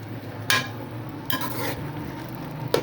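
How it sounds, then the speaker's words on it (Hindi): A spoon stirs carrot halwa (gajrela) in a pan, giving a few distinct scraping strokes over a low, steady cooking hiss, with a light clink at the end. "चम्मच आपने हिलाई जाना, चम्मच को आपने रोकना नहीं है"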